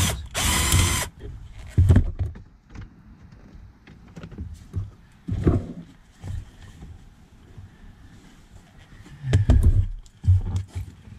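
Ratchet clicking as bolts are worked loose beneath a seat in a Mk4 Volkswagen Jetta, heard in short separate bursts spread across the clip, with clunks and handling noise between them.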